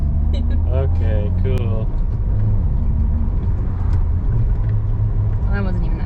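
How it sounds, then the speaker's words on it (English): A Mitsubishi Lancer downshifts without rev matching, giving a loud, steady engine rumble heard from inside the cabin, with brief talk at the start and near the end. "what does that look like if you don't rev match when you downshift?"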